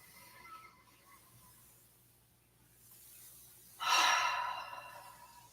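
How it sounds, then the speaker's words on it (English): Quiet, slow breathing during a yoga session on a mat, with a soft inhale and then a louder, airy exhale near the end, heard alone in a calm room. "Let's take a couple of deep breaths."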